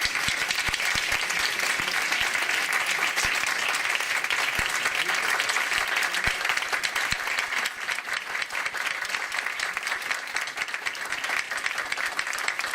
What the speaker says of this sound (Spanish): un fuerte aplauso, perdón.